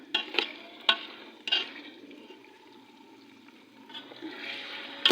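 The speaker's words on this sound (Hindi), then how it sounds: "गोश्त को हम कर लेते हैं फ्राई" Meat fries with onions in a pan over raised flame, a moderate sizzle running under sharp clinks and scrapes of stirring at the start and end.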